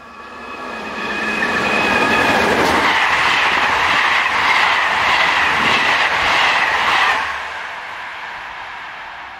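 Strasbourg-based electric locomotive 15023 hauls a train rushing through Benfeld station, a loud rising roar with rhythmic wheel clatter that peaks and fades away, no voices.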